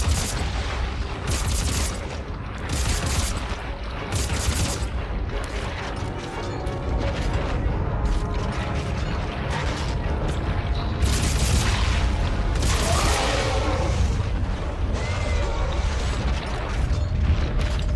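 Gunfire in the video game Dead Space 3 comes as repeated bursts of loud sharp shots separated by brief gaps, set over a dense rumbling game soundscape.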